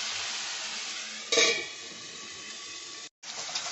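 Onions fry in a pan with a steady bright sizzle, one brief stir or scrape near the start, and a short cut-out before the sizzling resumes.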